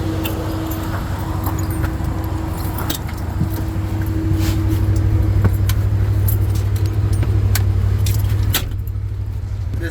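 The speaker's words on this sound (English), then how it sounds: "this right here is what powers your hydraulic motor on. As you can hear it, it's on." The hydraulic motor on a 2021 Can-Am Defender Max LT survey UTV runs steadily with a low hum and a faint whine, close and constant, with light rattles and ticks over it.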